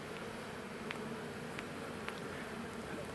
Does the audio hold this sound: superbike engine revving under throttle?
no